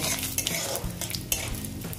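Spices tempering in hot oil for an egg and potato curry, stirred steadily around the pan: a continuous sizzle with soft scraping strokes and a few sharper clicks of utensil on metal, close and alone.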